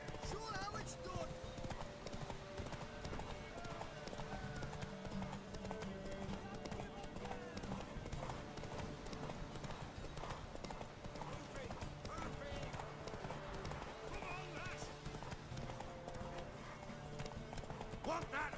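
Horse hooves clip-clop steadily in The Witcher 3: The Wild Hunt, the rhythmic steps running under constant game music and spoken dialogue throughout, with an occasional whinny.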